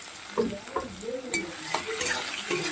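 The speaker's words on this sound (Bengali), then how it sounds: "পেঁয়াজটাকে ভালো করে ভেজে নিতে হবে" Sliced onions frying in white oil with bay leaves, a soft steady sizzle with spatula scrapes and light clinks of a utensil against the pan, close and quiet, no talk.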